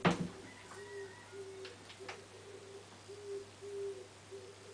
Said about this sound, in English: There's an owl and a rooster making noise outside.